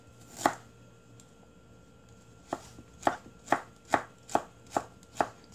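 Ginger minced with a knife on a cutting board for Korean spicy braised chicken: one isolated chop, a pause, then six evenly spaced sharp knocks, close and clear with no voices.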